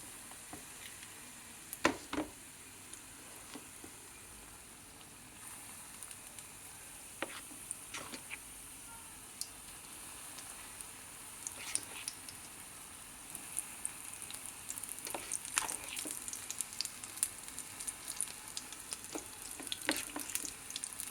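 A second batch of bondalu, lentil fritters, frying in oil, a faint steady crackling sizzle with scattered pops and a few sharper clicks, growing a little busier toward the end.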